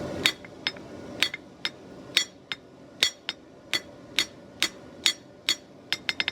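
A hammer rings against an old file laid on an anvil edge while a Scottish dirk's bevel is forged, a steady run of sharp bright metallic strikes about twice a second, close and clear.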